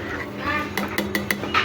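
A spoon stirring khichuri in a cooking pot, a few quick metallic clinks and scrapes against the pot's side, close by, over a low background hum.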